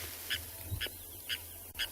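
A grey go-away bird calling at a sunrise safari waterhole, four short nasal calls spaced evenly about half a second apart over a low background hum, moderately near.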